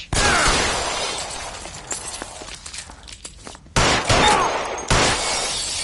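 Rapid bursts of gunfire and shattering impacts in a firefight from the L.A. Noire video game, dense and loud, cutting out briefly before resuming.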